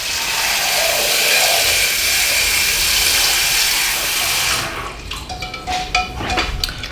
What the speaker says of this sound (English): I just put some cold water in the egg so that I don't burn my hands